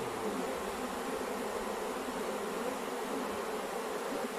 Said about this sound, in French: elles battent des ailes pour diffuser une phéromone pour dire c'est ici qu'il faut venir